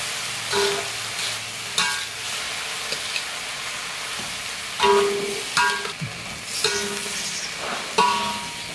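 Sugar stirred into frying rice-pot food for a Sundanese liwetan meal, with steady sizzling under repeated scraping strokes of a spoon against the pan, close and moderately loud, without talk.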